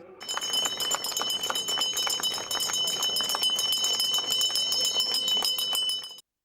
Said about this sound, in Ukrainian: святковий дзвоник пролунав на території Харківської виправної колонії